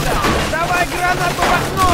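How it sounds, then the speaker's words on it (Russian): Machine gun fire in the video game Mafia II: a dense, loud burst of gunfire that keeps going the whole time, with battle noise and shouting voices over it. "Похоже, мы нашли пулемет!"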